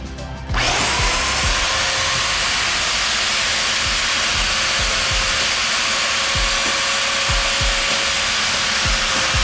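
A power sander grinds steadily on wheel assembly parts, starting abruptly and running loud and continuous, with a sustained whine and intermittent scraping contacts.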